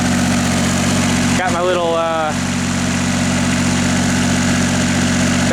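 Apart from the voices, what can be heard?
light tower generator engine running under load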